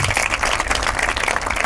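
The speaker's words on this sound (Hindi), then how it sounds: "एक बार जोरदार तालियां राजेश्वरी के लिए।" Applause breaks out for a top-ranked exam candidate at a results or felicitation event, a dense, steady wash of clapping that holds at an even level for its short length.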